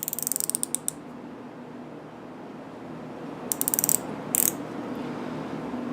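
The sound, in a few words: ratchet tightening a micrometer in a holder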